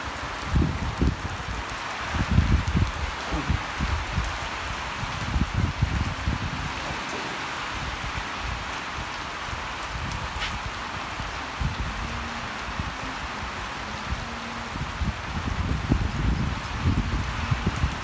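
Steady rain falls and patters on surfaces, a continuous hiss with heavier drips and occasional low thumps, close and enveloping.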